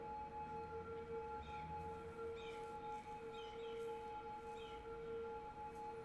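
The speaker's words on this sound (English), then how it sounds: "A lot of police noise." Police car sirens wail continuously in the city-building game Cities: Skylines, steady tones with rising and falling overtones layered over a busy traffic hum, moderately distant and with no talk.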